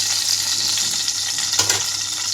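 Cumin seeds sizzle and crackle steadily in hot oil in a pan, a close, continuous frying hiss with a few brief louder pops near the end, and no voices.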